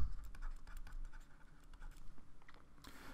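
Someone types on a computer keyboard to enter a search in the Chrome browser, producing quick, irregular key clicks at close range in a quiet room.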